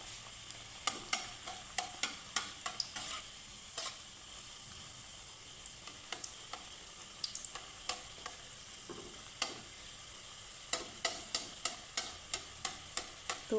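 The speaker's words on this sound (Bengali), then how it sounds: "এইভাবেই ভেজে নেব দেখো কত সুন্দর ফুলে ফুলে উঠছে" Bow sundori pitha, Bengali sweet dumplings, fry in oil with a soft continuous sizzle, broken by repeated sharp ticks and taps of a utensil in the pan, close and fairly quiet, with no talking.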